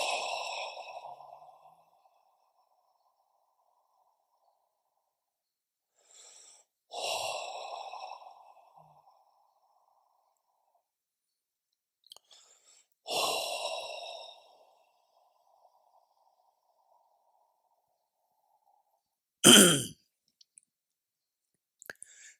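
Slow deep breaths during a guided meditation, three long audible exhalations spaced several seconds apart, each a soft breathy sigh, followed by a sharper quick intake near the end, quiet and close with silence between.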